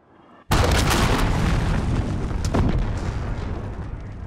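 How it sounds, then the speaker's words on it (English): A cruise missile explodes in a first-person shooter video game, one loud close sudden boom that rolls into a long, dense rumbling roar with no voices. "Enemy cruise missile incoming."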